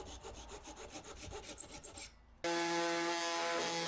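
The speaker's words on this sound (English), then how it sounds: "So I'm just trimming them splines off now." A hand tool rasps back and forth across wooden splines on a woodworking project, about a dozen quick rhythmic strokes close up, followed by a steady mechanical hum.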